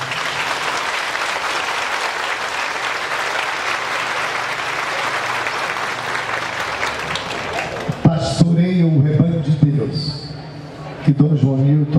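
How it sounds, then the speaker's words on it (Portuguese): A church congregation applauds during a Mass for the feast of Saints Philip and James, led by a bishop. Steady, dense clapping fills most of the stretch, then breaks into scattered claps as a voice begins speaking. "o bispo fica contente quando o povo aplaude"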